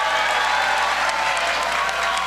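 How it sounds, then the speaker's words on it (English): Indoor audience at a union rally with the New York governor and vice president claps in a dense, loud, continuous burst of applause, a steady crackle of many hands with faint cheering. "Let's give a round of applause for all of our labor unions that are in the House."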